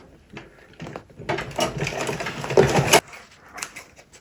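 Sewing machine stitching fabric for a braided turban runs in a short burst of rapid mechanical whirring lasting about two seconds, with softer handling taps before and after.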